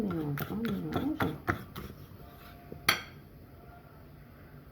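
A spoon clinks repeatedly against a bowl while mixing butter, egg and sugar, a quick series of close taps followed by a sharper knock, with a voice speaking over the start.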